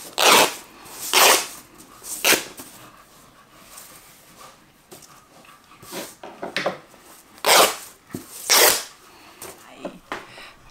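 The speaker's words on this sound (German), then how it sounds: "Das, was ihr vielleicht hört, ist mein Hund, der gerade seinen Ball hin und her schiebt." A dog pushes its ball back and forth across the floor indoors, making irregular scuffing, rolling bursts that come and go at varied loudness over a quiet room, with no voices.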